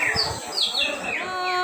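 A cucak ijo songbird sings at a bird contest, with bright, rising and falling whistled phrases repeated over a low background murmur of crowd noise.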